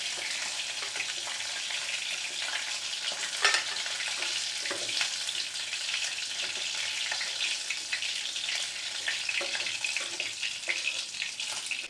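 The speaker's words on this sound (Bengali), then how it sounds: "এই তেলের মধ্যেই আমি এবার শুকনো লঙ্কা ফোড়ন দেব আর জিরে ফোড়ন দিলাম" Dried red chillies and cumin seeds sizzle steadily in hot oil for a Bengali fish-head curry, a continuous close crackling hiss with a few sharper pops and spoon scrapes, no talking.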